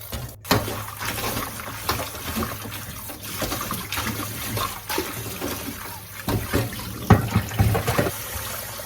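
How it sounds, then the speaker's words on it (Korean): Tap water runs and splashes as ginseng roots are washed by hand, an uneven rushing stream with bursts of splashing and knocks against a basin, close by. "인삼을 깨끗이 세척해서"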